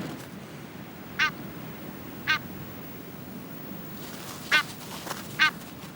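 Pink-footed geese calling in the Arctic, four short separate honks spaced through the clip, clear above a steady low wind-like background with no voices.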